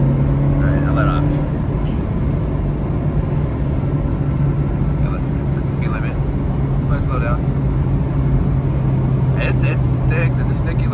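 A Honda Civic pulls at full throttle in third gear, its engine a steady, loud drone from inside the cabin, with a person talking over it.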